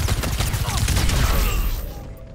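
Rapid automatic gunfire from a match of the video game Overwatch 2 rattles on loudly and continuously, a dense barrage that fades slightly toward the end.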